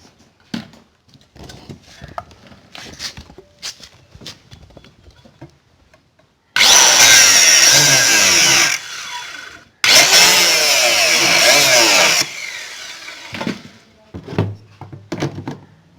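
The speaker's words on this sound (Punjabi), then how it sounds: "ਗ੍ਰਾਈਂਡਰ ਨਾਲ ਜਾਂ ਕਟਰ ਨਾਲ ਇਸ ਨੂੰ ਥੋੜ੍ਹਾ ਥੋੜ੍ਹਾ ਰਗੜ ਕੇ ਇਸ ਤਰ੍ਹਾਂ ਪੱਤਰੀ ਦੇ ਵਿੱਚ ਟੱਕ ਪਾ ਕੇ ਤੁਸੀਂ ਚਾਬੀ ਤਿਆਰ ਕਰ ਸਕਦੇ ਹਾਂ" An angle grinder cuts a notch into a metal strip to make a key, two loud harsh bursts of grinding a couple of seconds each, separated by a short pause, between quieter handling noises.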